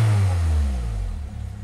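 A Saab car engine runs close by with a deep, rough rumble that swells briefly and then settles back toward a steady idle.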